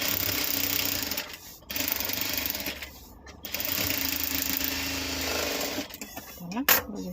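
A sewing machine stitches a bag made from an old top, running in steady close whirring bursts broken by short pauses, with speech in between.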